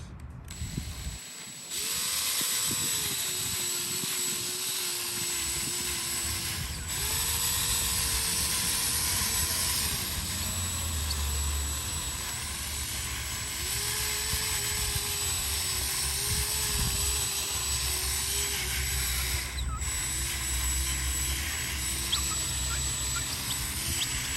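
Polisher with a buffing pad running on the paint of a Harley Davidson Street Glide, a steady whirring drone that rises and dips in pitch as the load changes, close and continuous throughout.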